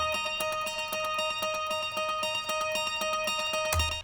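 Guitar part run through a short 16th-note EchoBoy delay with very short feedback, close to a slapback, giving steady quick repeated plucked notes at moderate level with no talking.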